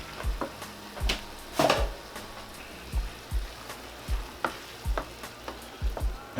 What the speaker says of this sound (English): we're gonna dump our tomato sauce